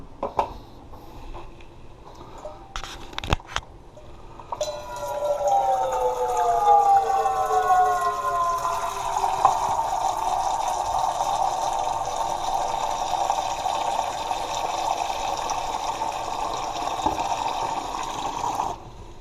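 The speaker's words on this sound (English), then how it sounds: "we're going to go ahead and fill our saucepan here up with some water." A saucepan being filled with water from a kitchen tap, a few clicks and clanks, then a steady rushing pour whose pitch slowly rises as the pan fills, loud and close, ending abruptly.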